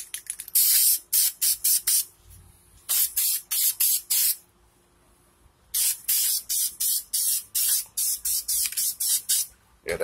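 Second coat of spray paint going onto 305 engine cylinder heads: a loud, close aerosol hiss released in short repeated bursts, with brief pauses between sprays and no talking.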